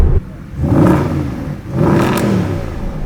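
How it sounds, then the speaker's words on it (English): A Mercedes SLS AMG Final Edition's naturally aspirated V8 revs close by in two rising, throaty swells, loud and steady between them, with no talking. "You hear that, the tone of that naturally aspirated V8, man."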